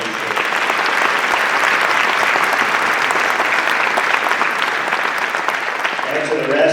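An audience at a 2024 Nehemiah Action civic assembly breaks into sustained, dense applause, many hands clapping steadily at close range throughout with no pause.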